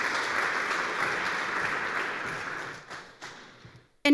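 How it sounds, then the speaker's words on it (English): An audience at a Bucharest forum on rebuilding Ukraine applauds in a steady, moderately loud round that lasts nearly three seconds before tapering off into a few isolated claps. "Please, a round of applause."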